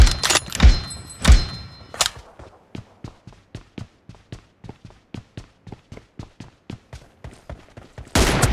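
M24 sniper rifle fire in the video game PUBG: a few loud, sharp blasts in the opening seconds, followed by a long run of quick, evenly spaced thuds.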